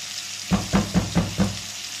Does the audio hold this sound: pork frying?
yes